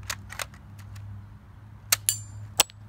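A LEGO AK47 toy gun fires at targets: a few sharp plastic snaps and clacks, spaced out, with a louder crack near the end over a low background hum.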